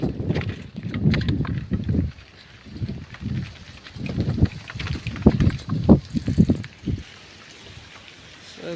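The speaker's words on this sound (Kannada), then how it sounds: "ಇಲ್ಲಿ ಗಾಳಿ ಜಗ್ಗ ಬಿಸ ಆಗೈತಿ." Strong wind gusts while cycling rumble into the microphone in loud, uneven bursts, rising and falling over several seconds before dropping away near the end.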